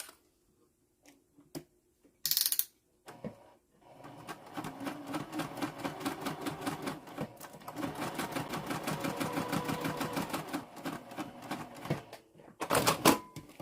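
A sewing machine bastes zipper tape onto fabric for a pocket, running in a rapid steady stitching rattle for several seconds, with brief clicks and handling sounds before and after.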